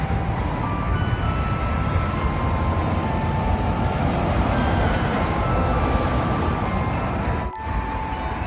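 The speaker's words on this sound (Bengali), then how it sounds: "ওই ট্রেন ঢুকছে এখানে স্টেশনের" A commuter train rolls into a suburban station in Lynbrook, New York, as a steady, loud, broadband rumble and rush held for several seconds, with a brief dip near the end.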